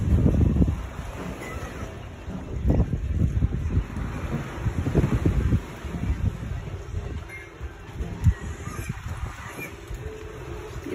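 Waves wash and break along San Juan beach over deep sea, a steady low roar with surges of surf rising and falling, close and fairly loud with wind, and no voices.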